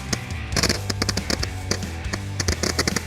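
A Superior Fireworks Cannonade fired outdoors, sending a rapid series of sharp close pops and cracks in irregular bursts over a low rumble, with no voices.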